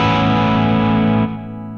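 A distortion effect channel in Ableton, used for live multi-effects, plays a loud, sustained, harmonically dense distorted tone that drops abruptly to a quieter, thinner sound near the end, with no talking.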